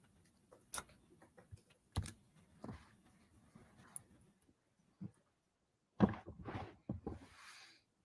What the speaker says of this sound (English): I'm noticing you're typing out more names.